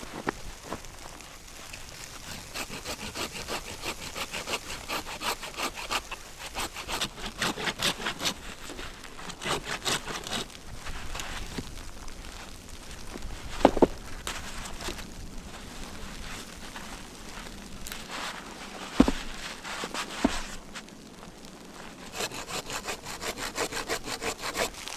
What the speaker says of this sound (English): cut it into smaller pieces and carried them back to the tent through the biting cold